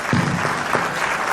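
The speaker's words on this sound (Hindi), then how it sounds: "एक बार तालियां बजाइए।" An audience at a Golden Mahotsav celebration bursts into brief, dense applause, with many hands clapping together for just over a second.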